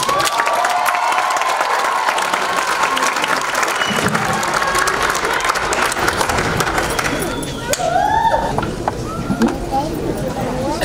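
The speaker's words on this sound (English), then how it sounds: "Now give a round of applause for the Middle East group." Audience at an international festival celebration applauding and cheering for a Middle Eastern dance group, loud dense clapping throughout with crowd noise and a few whoops toward the end.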